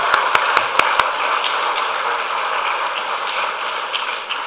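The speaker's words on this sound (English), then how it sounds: "Please give a good round of applause to Sanjiv Gohil." A large audience at the India Inclusion Summit 2014 applauds Sanjiv Gohil, opening with a few sharp distinct claps that blend into a steady, dense wash of clapping that continues evenly throughout, with no talking.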